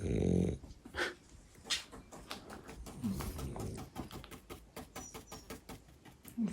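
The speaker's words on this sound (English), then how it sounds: "Little Bopsy snoring." A small dog snores and wheezes nearby indoors, soft irregular breathy snorts repeating through the quiet with a brief louder sound at the start.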